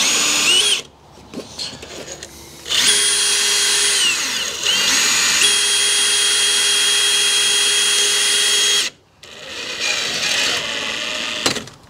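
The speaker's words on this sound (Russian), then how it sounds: "И также закручиваем саморезы." A power drill drives self-tapping screws into fiber cement siding, loud whining bursts that rise and hold in several long runs separated by short pauses.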